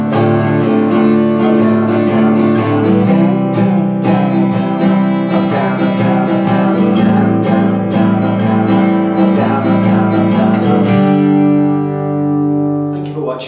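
An acoustic guitar strums chords in a steady down-and-up pattern, close and bright, ending on a ringing final chord.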